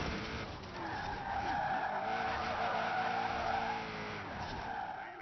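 Tires squeal and skid in a racing video game, a continuous loud screech with engine roar running steadily for the whole stretch, swelling slightly in the middle.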